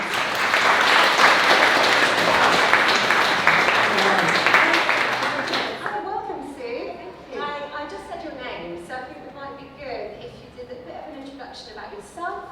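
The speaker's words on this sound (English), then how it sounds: "can I get a big, big round of applause for the amazing Sue Higgs?" Audience applause at an advertising industry festival event, loud dense clapping for about six seconds that then thins out into lighter scattered claps while someone talks over the fading applause.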